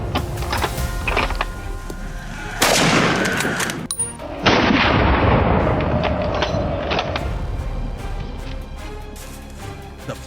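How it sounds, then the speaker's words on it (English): A rifle shot fired at a wild boar on farmland rings out sharply, followed by a second loud crack and a long ringing decay, heard alone at close range. "A bullet tore through the air, striking the beast dead on."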